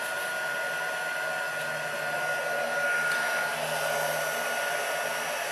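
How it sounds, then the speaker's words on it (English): A heat gun runs steadily under a desk, a continuous faint whooshing blow with a steady tone that holds unchanged throughout. "heat gun, which I will heat up under my desk"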